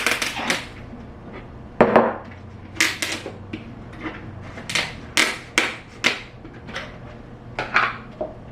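A knife chopping onions on a board, a dozen or so crisp, irregular knocks close by, spaced about half a second apart with quiet between, no voices.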